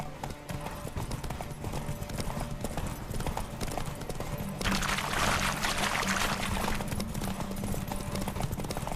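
Horse hooves clip-clopping at a steady quick rhythm in The Witcher 3, close and continuous, with a busier pouring, rushing layer swelling in partway through and faint voices in the background.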